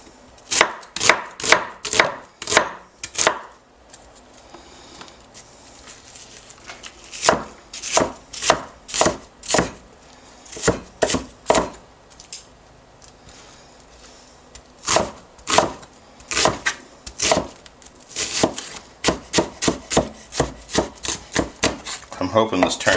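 Onions being roughly chopped with a knife on a wooden board, a close series of fast, sharp rhythmic thuds in bursts separated by short pauses.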